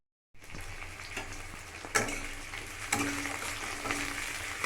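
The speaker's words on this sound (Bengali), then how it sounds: "পেঁয়াজগুলো আমি একটুখানি হালকাভাবে ভেজে নিয়েছি, মাঝারি ফ্লেমে রেখেছি গ্যাসটাকে" Onions frying in a pan on a medium gas flame, a steady soft sizzle with occasional stirring scrapes, close and fairly quiet, starting after a brief silence.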